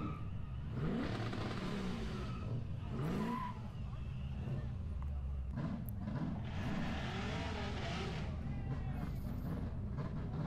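Old Ford Mustang at the Summernats car festival, engine revving and rising in pitch in several surges with tire squeal and crowd noise, a voice speaking briefly over it.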